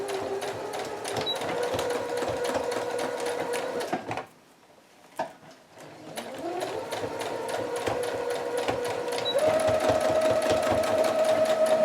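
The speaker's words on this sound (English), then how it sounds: "organically sew that on" A sewing machine stitches fabric onto a handmade bohemian scrap book, running in steady whirring bursts close by with a brief pause midway before it resumes alone.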